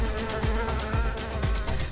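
Loud, close buzzing of bees, a dense continuous drone with a gentle pulsing rhythm roughly twice a second, no voices.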